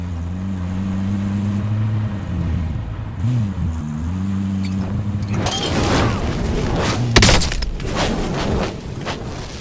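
A vehicle driven in Call of Duty Warzone, starting with a low engine drone that shifts pitch, then growing into louder, rougher rumbling and mechanical clatter with a sharp bump near the end.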